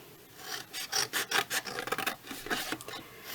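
A blade is drawn through cardboard along a score line, making a series of quick rasping, scraping strokes in an uneven rhythm. The sound is close but faint, with no talking.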